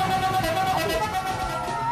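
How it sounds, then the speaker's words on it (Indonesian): The telolet horn of a large bus sounds in sustained musical tones under a steady traffic rumble, with a voice faintly present in the mix. "Pasti sudah tak asing lagi dengan suara klakson khas bis besar"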